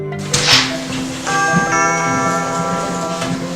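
Door chime from an Epic home alarm system control panel, sounding after a door opens: a bright electronic ding-dong tone pair ringing out clearly and sustaining alone, with no talking.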